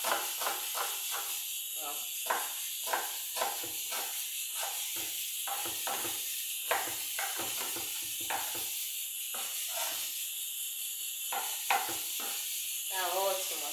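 Onion and smoked sausage sizzle in a pan for a feijoada, a steady bright hiss running throughout while someone talks over it in short phrases.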